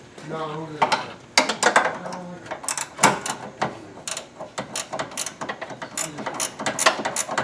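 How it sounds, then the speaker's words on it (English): Rapid ratcheting clicks from a flex-head ratcheting wrench turning a 10mm bolt on the headlight motor of a Firebird Trans Am or Corvette, close and busy, with someone talking briefly at the start. "We're using a 10mm with a flex head wrench on it, ratcheting wrench."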